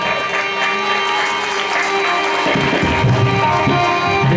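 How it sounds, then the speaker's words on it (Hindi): Applause from a crowd at a Hindu devotional katha gathering, loud and sustained throughout, a dense patter of clapping with some crowd noise mixed in. "इनके लिए जोरदार ताली हो जाए।"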